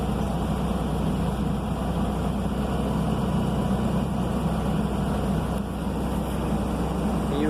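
A truck engine idles in the cab during a CDL pre-trip inspection, giving a steady low rumble that stays even and continuous throughout with no revving.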